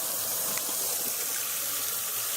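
Water runs steadily from a tap to fill a pet-care container, a continuous close gushing hiss that holds level throughout without talking.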